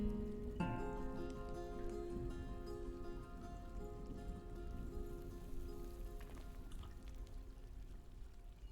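Water floods a dug-out level in Dwarf Fortress with a steady rushing, pouring hiss, faint and continuous, under a sustained musical tone.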